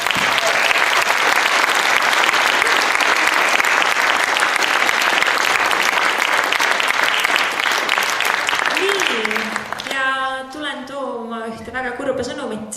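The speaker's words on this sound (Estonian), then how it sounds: "Nii et suur aplaus ka Lauri lugule." Dense, loud applause from a concert audience at the Paide Music School spring concert fills the hall for about ten seconds, then thins out as a voice and tonal sounds come through near the end.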